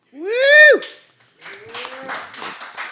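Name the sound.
smattering of applause from a live studio audience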